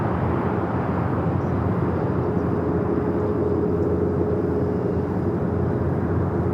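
A LATAM Boeing 767-300ER jet airliner taking off from the south side at LAX, bound for Lima, Peru: a steady, loud, broadband engine roar with a faint tonal whine, holding without pause.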